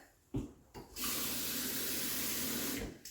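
Tap water pours steadily into a cooking pot for about two seconds, a close, even rushing splash framed by a few clunks of the pot being handled, with no talking.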